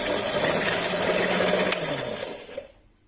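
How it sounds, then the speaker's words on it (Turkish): An electric mixer whirs steadily, then winds down and stops near the end. "Gürültü olmadığı hiç olmaması için mikseri kapatıyorum."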